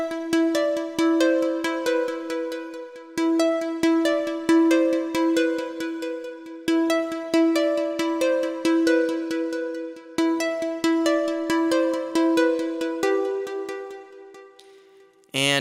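A programmed synthesizer lead patch plays a bright, harmonically rich melodic line of steady repeated notes, loud and alone, with no talking.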